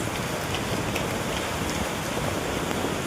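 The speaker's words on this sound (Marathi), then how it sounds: "बघा केवढा पाऊस आलाय" Heavy rain pours down during a windy monsoon storm, a loud, dense and unbroken hiss of falling water close by, with no voices.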